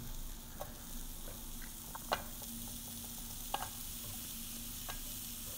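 Slices of sucuk sausage laid in a frying pan, a soft steady sizzle with occasional light clicks and taps of the slices being placed, quiet and without talk.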